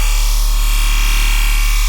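A sustained, buzzy bass synth tone of the Croc Slicer type, patched in Serum, plays loud and steady for about two seconds with no voices over it.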